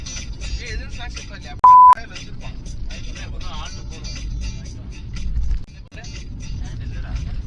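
A single short censor bleep cuts sharply through a loud roadside vlog, where people talk amid passing car and engine noise.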